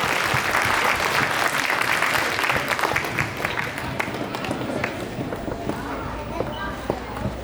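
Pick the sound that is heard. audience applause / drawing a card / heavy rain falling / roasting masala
audience applause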